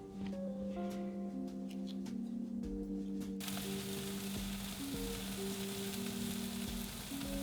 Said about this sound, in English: we flipped the beef flaps over, and we're just grilling the other side